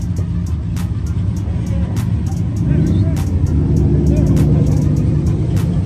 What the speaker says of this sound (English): We got more trucks pulling up.